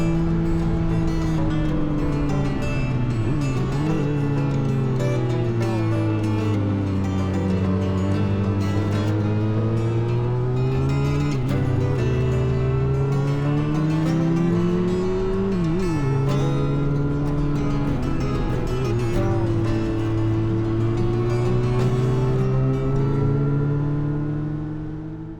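Motorcycle carrying a passenger climbs the steep uphill hairpins of Porlock Hill, engine droning loud and steady throughout while its pitch rises and falls repeatedly with the throttle through each bend.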